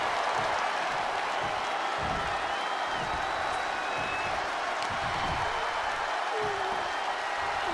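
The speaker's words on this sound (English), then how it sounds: "And now Bianca getting the crowd involved here." Steady arena crowd roar and cheering from a WWE 2K24 women's championship match on RAW, a dense wash of noise filling the whole stretch at moderate loudness with no clear breaks.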